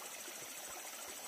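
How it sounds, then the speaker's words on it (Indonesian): A river stream flowing, a steady rushing wash of water filling the whole short moment with no voices. "ini ternyata di aliran sungai gini"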